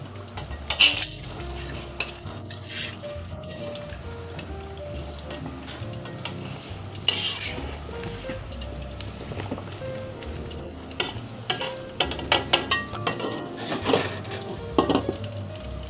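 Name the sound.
pork sisig frying and popping in oil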